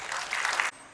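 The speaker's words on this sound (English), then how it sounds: "Please give a huge round of applause." Short burst of audience applause at a college inauguration program, dense crowd clapping that cuts off abruptly after less than a second into quiet room tone.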